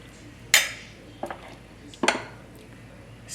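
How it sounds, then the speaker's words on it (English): A Chinese spoon clinks against a ceramic pot of slow cooker chicken soup with taro and mushroom, giving three sharp, close knocks spaced about a second apart against a quiet background. "I'm using the Chinese spoon."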